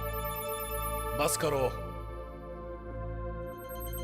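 A phone rings with a steady, sustained electronic tone while a voice briefly cuts in over it.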